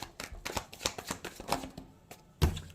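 Tarot cards shuffled by hand, a rapid run of soft, close riffling slaps in an uneven rhythm, ending with a firmer knock as the deck settles.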